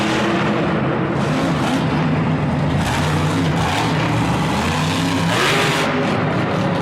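A damaged monster truck engine revs loudly in the Georgia Dome stadium in Atlanta, a continuous rough roar with surging throttle swells echoing through the arena, no talk over it.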